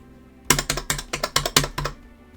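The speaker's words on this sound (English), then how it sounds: "Even the most basic combos feel satisfying to do just from the sound of the buttons alone." Mixbox S+ arcade controller buttons clack loudly and close up in a quick run of about eight presses, evenly paced like a fast combo, with no talking.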